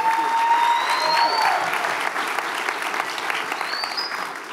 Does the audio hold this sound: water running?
no